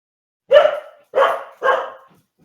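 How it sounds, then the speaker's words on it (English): A dog barks three times in steady succession, loud and close, each bark short and sharp against silence. "I'm going to go feed the dogs so they stop whining at me"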